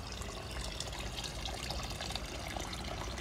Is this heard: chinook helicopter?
no